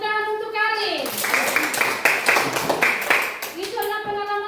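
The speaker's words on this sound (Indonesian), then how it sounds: "Iya, tepuk tangan untuk Karin." A primary school class breaks into applause for a classmate, a dense burst of many hands clapping over a few seconds, framed by a voice before and after.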